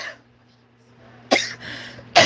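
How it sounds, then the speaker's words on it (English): A person coughs twice, each a short harsh burst, close and loud, with a low hum and quiet room noise between them. "Coughing hurts my throat."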